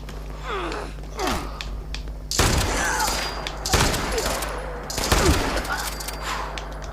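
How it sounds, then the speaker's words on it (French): Gunfire in the video game Fallout 76 cracks out in several sharp, loud bursts spaced a second or so apart, set against a low, steady ambient hum. "En plus, entends-tu tes coups de feu?"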